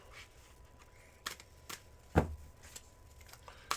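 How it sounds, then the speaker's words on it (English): Tarot cards shuffled during a reading, giving a few separate soft riffling bursts with one louder snap of cards near the middle, against a quiet room background. "Here are your 6 official shuffles for your reading."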